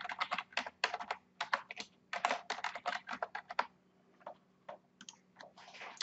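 Rapid bursts of keystrokes as a password is typed on a computer keyboard, clicking in quick clusters with short pauses, close and clear with no talking.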